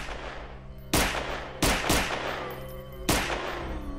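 Gunfire from a first-person Resident Evil 2 mod built on Half-Life 2: four sharp, loud shots ring out at irregular intervals, two of them close together, each followed by a brief decaying tail over a low game ambience.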